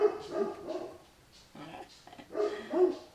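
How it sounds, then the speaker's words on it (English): A dog barking loudly indoors, several sharp barks in uneven bursts across a few seconds, close by and prominent, with no talking over them. "Look at a loud dog."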